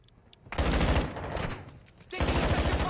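Rapid automatic gunfire in Warzone 2.0 comes in two dense, loud bursts of rattling shots, with a short pause between them, close to the listener.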